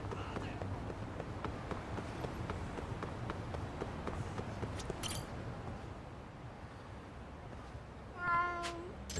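Cats in the video game Lost Judgment meow briefly over a steady bed of game ambience and footsteps, with a louder cry near the end, while a voice talks throughout.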